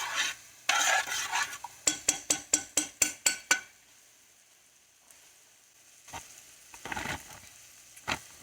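A spoon knocks and scrapes around a pot on the stove as a mixture is stirred, with a run of eight rhythmic clinks in the middle. Faint sizzling and scattered kitchen clatter come before and after.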